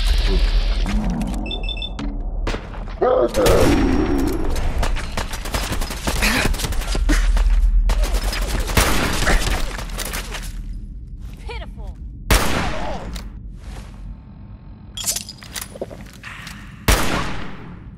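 Gunfire during a firefight in Fallout 4, rapid bursts and scattered sharp shots, some loud and close, others quieter, with roaring creature noises and shouted voices in between.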